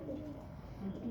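Pigeons coo with a soft, low, throaty call, heard close under a steady background hum with no speech over it.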